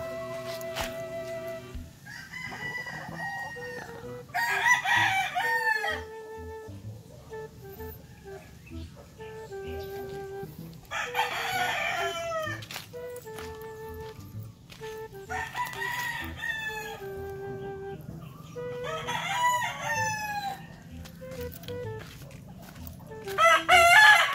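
Young stag roosters crow repeatedly and cluck in between, loud and close, with several overlapping crows spread through the stretch and quieter clucks under them.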